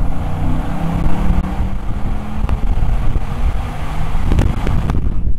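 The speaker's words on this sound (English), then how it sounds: "I want to hear this, but not as bad as I want to hear the supercharger in the tunnel" Supercharged RennTech Stage 6 Mercedes SL55 pulling hard in second gear from about 3,000 rpm inside a tunnel, a loud, throaty, continuous engine roar with reverberant rumble and no talk.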